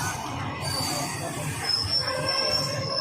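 The 12527 Ramnagar–Chandigarh Weekly Superfast Express leaves Saharanpur railway station, a continuous rolling rumble topped by a thin, high metallic wheel squeal that rises partway through.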